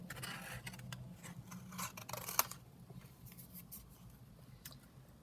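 Scissors cut out a piece of stamped paper with close, crisp snips and rustling paper, including a sharp clip partway through, followed by quieter handling.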